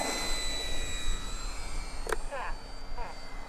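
A Turbo Timber Evolution RC airplane flies overhead with a thin, steady electric whine that slowly drifts lower in pitch as brief voices sound in the background.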